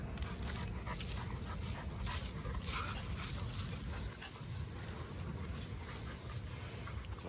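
A five-month-old female dog pants rapidly and whimpers close by, with continuous breathy huffing and small whiny yips throughout over outdoor background noise.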